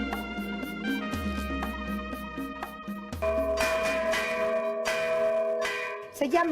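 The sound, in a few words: church bells ringing for Day of the Dead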